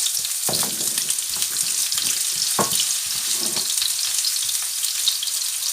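Onions hit hot oil in a pan for a Ndakala small-fish and spinach dish, giving a loud, steady, close-up frying hiss with scattered pops and crackles throughout.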